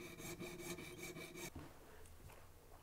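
A fine jeweler's saw rasps through the edge of a wooden bench pin in quick, rhythmic strokes for about a second and a half, then stops, leaving quiet scraping and room noise.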